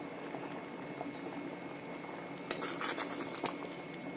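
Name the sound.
rajma (kidney beans) boiling in a pot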